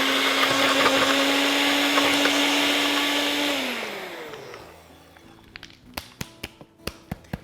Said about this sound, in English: And we continue to blend.